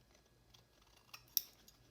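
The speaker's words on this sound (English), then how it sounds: "And then I'm just going to trim across." Scissors trimming paper cards for a garden-themed junk journal: a few quiet snips and crisp cuts, close and isolated, with one sharper snip near the end.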